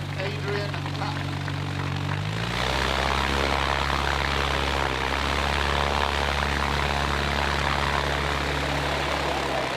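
Aerobatic propeller aircraft at an air display, its engine changing pitch and settling into a loud, steady near drone after pulling up from a gentle aerobatic routine.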